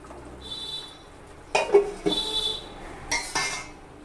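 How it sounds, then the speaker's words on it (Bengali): Green chillies being stirred into gourd greens in a pan, with a few separate bursts of metal spoon scraping and clinking against the pan between quiet gaps. "লঙ্কাটা দিয়ে দিলাম দিয়ে নেড়ে ছেড়ে"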